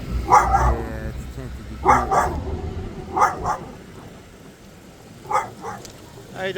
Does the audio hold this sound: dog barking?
yes